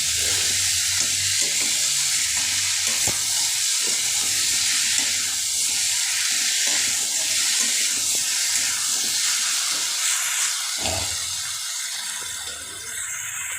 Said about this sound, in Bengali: এবার আমি এটাকে জল ঢেলে দেবো